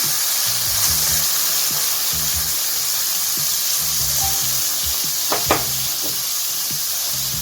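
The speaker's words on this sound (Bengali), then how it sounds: "মূলোটাকে আমি কিছুক্ষণ একটু ভেজে নেব, 2 থেকে 3 মিনিট।" Steamed radish frying in a pan after a black cumin tempering for a Bengali mulor chechki, a steady broadband sizzle throughout with soft stirring knocks and a couple of brief sharper crackles, close and loud, no talking.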